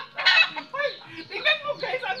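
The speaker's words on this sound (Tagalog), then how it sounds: "Ang dami talagang mga pato." Several ducks call in quick succession, loud and close, a run of nasal honking quacks.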